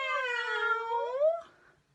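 A single cat meow, close and clear, rising then falling and trailing off in under two seconds.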